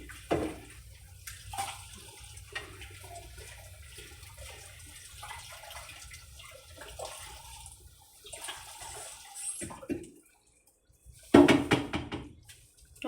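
Tap water runs into a kitchen sink while something is washed, a steady rushing stream with brief breaks and a louder, closer splash near the end.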